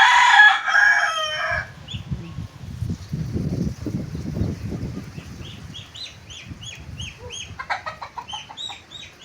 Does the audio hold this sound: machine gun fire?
no